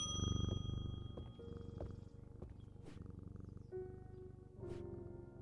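A cat purrs in the video game Strange Antiquities, a low, steady rumbling purr running throughout, with soft tonal game chimes and hums drifting over it and no talking.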